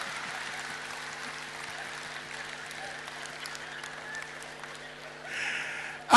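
Steady applause from a comedy club audience at a Romanian stand-up joke show, a broad even patter of clapping that holds for several seconds and swells slightly near the end, with faint murmuring underneath.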